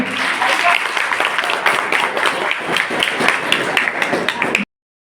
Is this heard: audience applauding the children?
yes